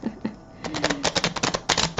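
Tarot or oracle cards being shuffled by hand, a dense run of crisp riffling clicks and flutters that quickens in the second half, close and fairly quiet with no talk.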